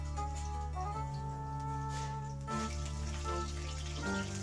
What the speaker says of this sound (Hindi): तो ये देखिए यहाँ पर मैंने चिकन ऐड करना शुरू कर दी है और इसको इस तरह फ्राई कर रही हूँ